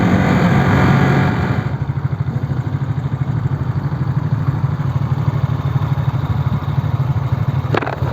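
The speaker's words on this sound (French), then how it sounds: "Le ralenti tient bien quand on s'arrête." A Honda CB twin motorcycle idles steadily nearby, its low, even engine pulse running throughout with a louder revving moment at the start before settling into a constant idle.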